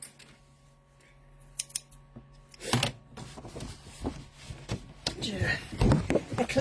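Scissors cut through a sheet of paper with a few crisp snips and rustles, close by, while someone talks intermittently around them.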